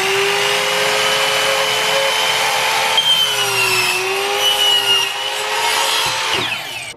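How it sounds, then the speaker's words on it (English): Wooden boards for stair risers are cut with a power saw, a loud continuous whining buzz that shifts slightly in pitch as the blade moves through the wood. No one speaks. "So all I'm doing, I'm just cutting these boards"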